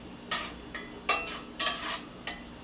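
Shrimp stirred in a frying pan with a utensil: five or six soft scraping sweeps with light sizzle beneath, fairly quiet and close.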